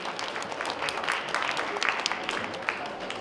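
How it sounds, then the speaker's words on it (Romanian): Audience applause at a book launch for the volume "Povestile clipei", a steady wash of many hands clapping at moderate level throughout, without clear gaps. "Aplauze din nou, merită."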